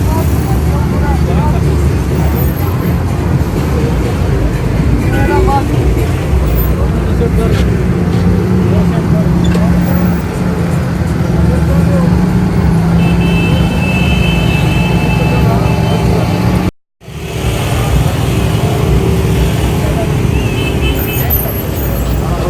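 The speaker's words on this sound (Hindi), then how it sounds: "गाड़ियों का रश आप देख रहे हैं" Heavy traffic at a large, busy car market in Pakistan, a dense continuous roar of engines and road noise with voices talking underneath, broken by one brief dropout near the end.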